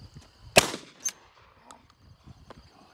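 A gun fires at cars, one sharp loud report followed by a smaller crack a half second later, then faint scattered ticks and rustle in a quiet outdoor space.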